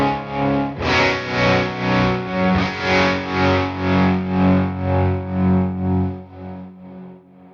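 Electric guitar played through a Tone King Imperial Tri-Tube preamp with reverb, tremolo and effects loop, sustained distorted chords pulsing in a steady tremolo rhythm before fading out at the end.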